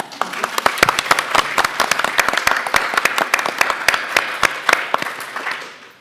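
An audience at an LSE Festival evening event claps steadily, a dense run of sharp individual hand claps close by that holds strong for about five seconds, then thins and fades at the end.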